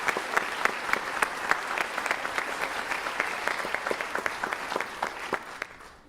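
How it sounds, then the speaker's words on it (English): Audience applause fills a high school spring band concert, a dense, steady wash of clapping that holds strong throughout before tapering off at the very end. "let's give them a big round of applause for all that they do"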